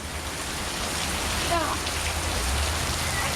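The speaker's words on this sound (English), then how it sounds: "It rained like this all night." Heavy rain pours steadily in a garden setting, a dense continuous hiss of drops on surfaces filling the whole stretch, with a faint brief voice-like sound partway through.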